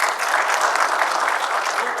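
A theatre audience at the Shalimar Theatre gives sustained, dense applause after a Punjabi family stage play, many hands clapping steadily and loudly throughout without a break.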